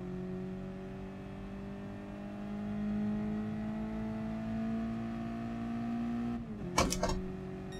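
A car engine in the racing game Gran Turismo Sport hums at steady revs, its pitch creeping upward before a sharp burst of noise near the end. The engine is faint and no one speaks.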